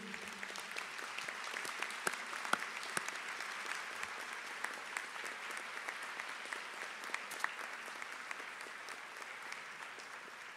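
Sustained audience applause at a college of the arts graduation ceremony, honoring military members and veterans; dense, steady clapping from a large crowd continues throughout without pause.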